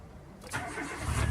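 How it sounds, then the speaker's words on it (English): A 2000 Nissan Almera with a 1.5 engine cranks briefly, catches and settles into a near, steady idle after a short quiet moment, with no voices. "start the car."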